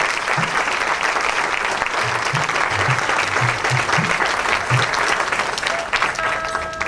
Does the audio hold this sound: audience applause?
yes